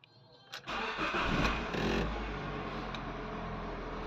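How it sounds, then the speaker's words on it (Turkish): A Fiat Doblo 1.4 engine cranks briefly, catches and settles into a steady, close idle after a timing belt and water pump service, with no talking. "Şöyle şimdi bakalım hep birlikte marşa basalım bakalım."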